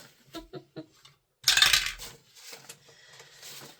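Coins tumble down through a dice tower, a few light metallic clinks followed by a loud rattling cascade and a trailing scatter of small chinks, with no talk.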